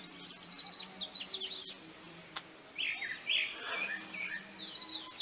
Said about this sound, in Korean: 새들은 상관없이 잘 지저귀고 있습니다.